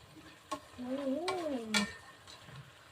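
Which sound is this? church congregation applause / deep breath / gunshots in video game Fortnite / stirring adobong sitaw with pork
stirring adobong sitaw with pork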